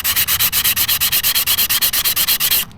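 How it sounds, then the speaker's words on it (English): Brake pads for a Gio Titan being sanded by hand, a steady run of about twenty even rasping strokes, close and loud, each a sharp scratchy rub, stopping abruptly near the end. "you want to sand those brake pads down"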